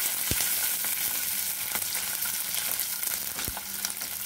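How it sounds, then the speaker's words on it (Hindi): Steady sizzling and crackling of chopped ginger and garlic cloves frying in a hot pan, with a few sharp clicks of a utensil stirring, no voices. "थोड़ी देर भूनने के बाद अब इसमें डाल देते हैं थोड़े से अदरक कटे हुए, 4 से 5 लहसुन की कलियां"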